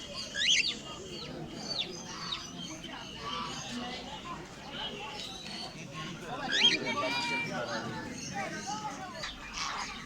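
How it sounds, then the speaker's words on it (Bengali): Cockatiels, including lutino and grey birds, chirp with other caged birds at the Fatullah bird market in Narayanganj. Brief sharp chirps rise over a steady hum of crowd chatter and people talking. "কিছু ককাটেল পাখি দেখতে পাচ্ছি আমরা এখানে। লটিনো পাখি দেখা যাচ্ছে, গ্রে ককাটেল দেখা যাচ্ছে।"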